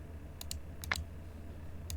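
A handful of crisp clicks from a computer mouse next to the microphone, a quick pair, then two more close together and one near the end, over a low steady hum.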